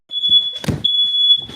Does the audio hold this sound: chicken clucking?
no